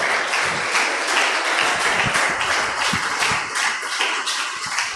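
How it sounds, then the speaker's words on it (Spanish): Congregation applause during a church seminar on death and resurrection, dense clapping from a room full of people that holds steady and fairly loud for the whole stretch. "denle un aplauso al Señor"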